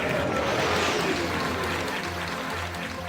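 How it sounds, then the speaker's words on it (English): An audience claps for guests at a sci-fi convention panel, dense and steady applause filling the room for a few seconds before it starts to thin slightly. "please give a round of applause to our guests this afternoon"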